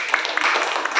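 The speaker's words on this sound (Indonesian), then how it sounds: "Kasih tepuk tangan." A brief burst of scattered hand clapping from students in a classroom, uneven and fairly close, with a voice talking over it.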